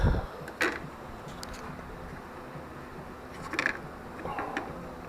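Metal clinks and a few ratcheting taps from tools working the top bolt loose on a Triumph Tiger 1050 motorcycle's rear shock absorber, with three short, close clanks spaced over a quiet, low background.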